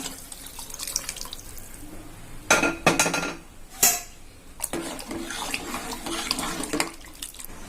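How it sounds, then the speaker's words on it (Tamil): Cooked dal and water pour and splash into a metal pressure cooker amid clinks of the vessel, with a couple of louder bursts of pouring in the middle. "தண்ணியும் சேர்த்து அப்படியே ஊற்றிடலாம் குக்கர்லேயே"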